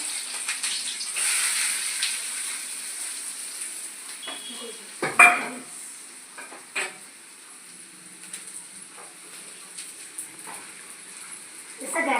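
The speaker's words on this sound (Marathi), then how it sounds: "इकडं कढईत तेल तापत ठेवलेला आहे तू कर टाकते भुर्जी करायला" Oil heating and frying in a kadhai while bhurji is being made, a soft steady sizzle with stirring and a couple of sharp utensil knocks, heard at moderate level in a home kitchen.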